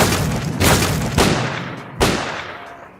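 AK rifle fired in S.T.A.L.K.E.R.: Clear Sky, three sharp loud gunshots spaced apart, each with a short ringing decay, no talk.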